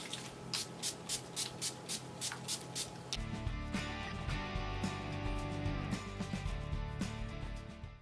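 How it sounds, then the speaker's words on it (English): NYX Dewy setting spray is pumped onto a face in about ten quick, evenly spaced hissing bursts, close and crisp, followed by soft rustling. "I'm going to go ahead and set my makeup using the NYX Dewy Spray."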